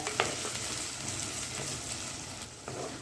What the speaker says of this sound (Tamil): வெங்காயம் ஒரு லேசான பொன்னிறம் வர்ற அளவுக்கு வதக்கி எடுத்துக்கலாம்